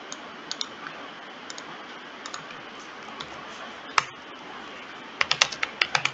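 Computer keyboard typing a short command in a terminal, a few sparse clicks early, then a quick burst of keystrokes near the end, close and clear over low room hiss.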